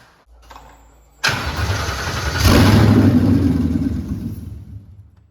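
A Ford Coyote V8 swapped into a 1967 Mustang Fastback, running on a Power by the Hour wiring harness, cranks for about a second, then fires and roars up loudly before settling into a rough idle. No one talks over it.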